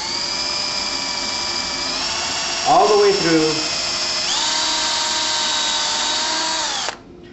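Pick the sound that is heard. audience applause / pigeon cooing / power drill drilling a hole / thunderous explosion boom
power drill drilling a hole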